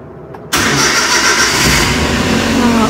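A car engine cranks briefly and catches, then settles into a loud, steady running idle close by, with no talk over it.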